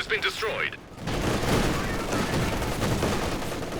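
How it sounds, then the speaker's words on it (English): An incendiary bombing run in Company of Heroes 2 hits, a dense rumbling barrage of rapid blasts and crackling fire that follows a short burst of talk and then fills the rest of the moment loudly. "Good use of the incendiary bombing run. There it goes."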